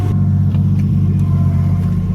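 A 600 HP car with an RB25DET engine idles loud and close, a deep steady rumble with an even throb and no revving.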